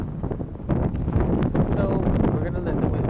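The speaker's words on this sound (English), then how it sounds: "we're gonna let the wind calm down a little bit because it's like really, really picking up here" Strong outdoor wind buffets the microphone in a steady, rumbling roar that swells after the first moment and stays loud throughout, with faint rustling mixed in.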